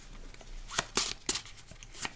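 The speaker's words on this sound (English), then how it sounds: "who then shuffles these up and would deal them out to start the next round" Playing cards for the Tiny Epic Western board game being shuffled by hand, a few crisp riffling bursts and snaps close by, alone with no talk.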